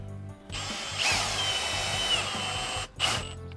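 A power drill drives screws into PVC corner trim board beside a window on an exterior wall, the motor whining in steady bursts with short pauses between, close and loud with no talking.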